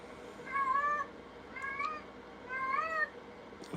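A cat meows three times nearby, each call a drawn-out, wavering cry with short pauses between, against quiet background.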